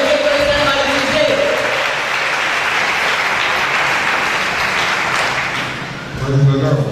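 A church audience at a Christian fellowship forum applauds loudly and steadily to welcome a pastor, the dense clapping filling the room, with a voice and tonal sounds threaded underneath and a brief swell near the end.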